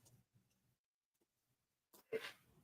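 A single sharp sneeze bursts out after a few soft, quiet sounds and near-silence; it is close and fairly loud.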